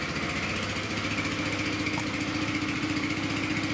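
A Peugeot Speedfight 4 125cc liquid-cooled scooter engine idles nearby, a steady, rapid mechanical putter with a light buzzing tone that runs evenly and fairly quietly throughout.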